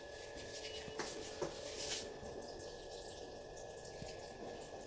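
Water pours into a cooking pot while greens such as cauliflower and spinach are being boiled with salt: a steady, fairly faint rushing over a low electrical hum, with a couple of small knocks.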